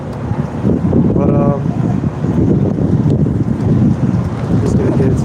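Strong outdoor wind buffets the microphone in a constant loud roar of low rumbling gusts, with a brief faint tonal sound in the middle.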